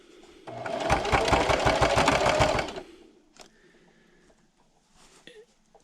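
A sewing machine runs fast and loud for about two seconds, its needle hammering in a rapid even rhythm while stitching around a patriotic pocket placemat, then stops, followed by faint handling clicks and rustle.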